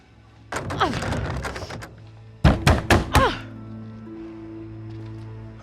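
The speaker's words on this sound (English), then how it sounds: "I can hear you banging on the door" Someone bangs on a door in the horror game Little Hope: a muffled flurry of thumps, then four heavy, hollow blows in quick succession, followed by a quiet, humming ambience.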